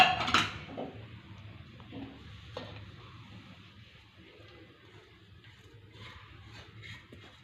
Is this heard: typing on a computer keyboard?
no